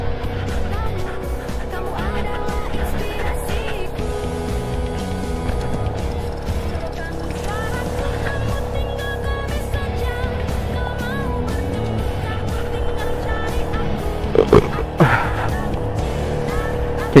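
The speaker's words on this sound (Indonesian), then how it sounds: "Ada satu motor turun, ada satu lagi." Motorbikes come down a mountain road on Mount Telomoyo, their engines droning steadily with rising and falling pitch, and a louder pass near the end.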